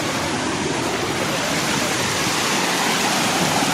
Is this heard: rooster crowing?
no